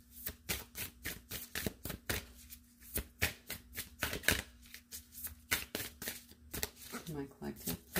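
Moonology oracle cards are shuffled in quick repeated riffling slaps and flicks, close and crisp, with a soft low hum underneath.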